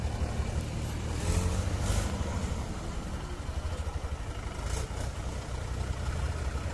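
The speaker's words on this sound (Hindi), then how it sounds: "जग्गू ध्रुव बहुत ही हैवी ड्राइवर की तरह ट्रैक्टर को ड्राइव करते हुए एक हाथ में ट्रैक्टर को पकड़ा हुआ है" A Mahindra 415 DI tractor drives along a narrow rural lane, its engine a faint, steady, low chugging rumble heard from close by with slight swells.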